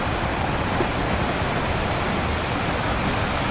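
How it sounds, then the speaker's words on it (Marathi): Sea waves breaking on the Konkan shore at night, a steady, dense wash of surf noise with no distinct individual crashes, constant and fairly loud throughout. "तुम्हाला साऊंड येत असेल लाटांचा."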